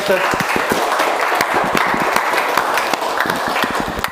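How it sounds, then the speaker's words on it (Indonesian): Classroom audience applauding after a group discussion presentation, dense steady clapping from many hands throughout, fairly loud and close. "Ya, kita berikan aplaus."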